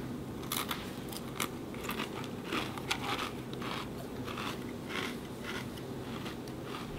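Crunchy fry-shaped potato chips, salad flavored, from a cup sold at a 7-Eleven in Japan, bitten and chewed close up in a steady run of sharp crackly crunches without talk.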